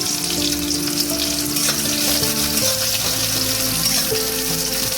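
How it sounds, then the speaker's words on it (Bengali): A whole large onion sizzles steadily in hot oil in a pan, a close, continuous crackling fry with faint clinks and water-like hiss throughout and no talking. "আমার পেঁয়াজটা হালকা লাল করে ভাজা হয়ে গেছে"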